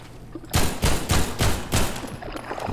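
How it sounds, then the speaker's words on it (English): Rapid bursts of gunfire from combat against enemies in Half-Life 2 Episode One, several loud close shots in a quick uneven rhythm with a lingering tail, no talking. "What else are you shooting at over here?"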